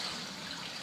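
Water poured into a pot of fried chicken for Afghani (Kabuli) pulao makes a brief, fairly quiet splashing rush, steady and unbroken over less than a second.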